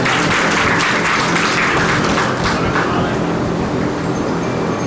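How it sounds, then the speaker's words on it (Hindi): Audience applause welcomes a guest at a career guidance seminar, a loud, dense wash of clapping that fills the whole stretch without pause. "तालियों से स्वागत और अभिनंदन।"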